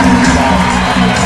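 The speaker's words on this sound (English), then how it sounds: "Listen to this raucous crowd." Raucous crowd at a high school football game between Lowndes and Lee County, a dense, loud roar of cheering and shouting voices that fills the whole moment without a break.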